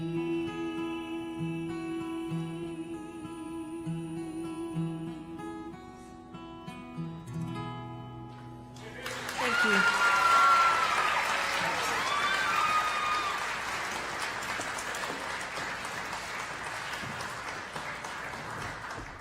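Audience applause breaks out at a mountain music school concert, following a stretch of acoustic music; the clapping starts abruptly and stays loud and dense for about ten seconds with some crowd noise.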